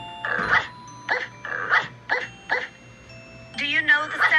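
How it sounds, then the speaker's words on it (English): Dog barks in short, evenly spaced bursts of about five or six, fairly close and loud, followed by a quicker cluster of yips at the end, with no talking over them. "That's right, a barking dog."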